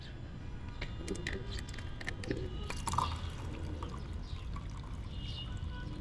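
A mix of cinnamon, cloves, cardamom and black pepper is poured into a container, giving a close, scattered run of small ticks, rattles and trickling sounds over a low steady background.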